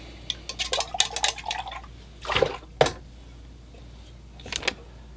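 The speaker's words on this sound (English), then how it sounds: "So I just changed out the water in my water bucket, put in some fresh, clean water." Water is poured and swished in a painter's rinse bucket, with splashes, drips and clinks of the container in bursts separated by quieter pauses.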